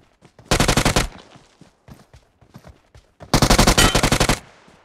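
Automatic gunfire in the mobile battle-royale game PUBG Mobile: two long, loud, rapid bursts with a few scattered single shots between them, and no talk.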